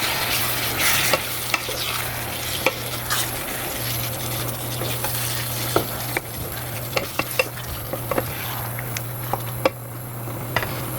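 Macaroni spaghetti sauce is stirred in a hot pan: a loud continuous sizzle broken by repeated scraping and tapping of the spoon against the pan.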